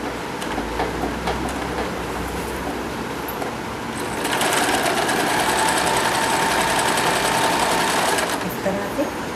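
A sewing machine stitches a small deity dress piece edged with gota trim, folded in half; the whirring motor is faint at first, then louder and continuous for several seconds before stopping.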